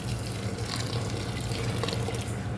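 Water being poured into a thick pasta sauce in a pot, a steady close rushing splash running the whole time with no talk.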